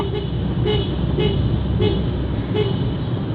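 A car horn toots in a steady series of short honks over constant traffic rumble, moderately close, at Kaybiang Tunnel in Ternate.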